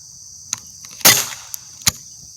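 An air gun fires one sharp, loud shot, followed by a short tail and framed by a few small clicks before and after.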